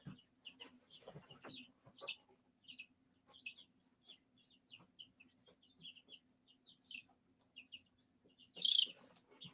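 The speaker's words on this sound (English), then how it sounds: "This here is a little buff Orpington chick." A young buff Orpington chick peeps in soft, rapid chirps among quiet clucking from other birds, one louder call near the end, over a low steady hum and no talk.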